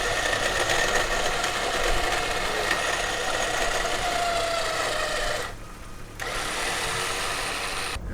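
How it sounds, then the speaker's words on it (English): A Badlands ZXR winch reels in rope with a continuous droning mechanical whir under strain. It runs steadily and near, with one brief drop in level partway through before resuming. "So I'm running the Badlands ZXR winch."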